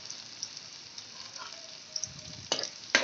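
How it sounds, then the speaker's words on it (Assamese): Sliced onions fry in a pan for an Assamese fish curry, giving a soft, steady sizzle with a couple of sharp stirring scrapes near the end. "এতিয়া ভালদৰে এইখিনি ভাজি ল'ম। পিঁয়াজখিনি অলপ ৰঙচুৱা হোৱালৈকে।"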